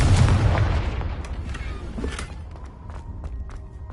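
A Confringo spell explosion in Hogwarts Legacy: one heavy, rumbling boom that hits loud at once and then rolls away into a fading tail, with a few faint clicks and taps after it.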